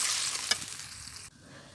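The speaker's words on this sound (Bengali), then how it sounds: "এখন আমি ঝোলটা দিয়ে দিচ্ছি" Broth poured into a pan of frying eggs, a steady bright sizzle that fades and dies down abruptly near the end, with no talking.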